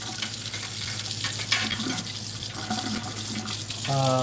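Dishes rinsed under a running kitchen tap, a steady close stream of water splashing in the sink with faint clinks, a brief hum at the end.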